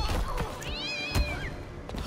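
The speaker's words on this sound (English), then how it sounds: "This cat! The cats! They're going crazy!" Cats yowl in the fighting game Injustice 2 during a Halloween multiverse match: one drawn-out, rising-and-falling meow sits in the middle, framed by short thumps and other game noise.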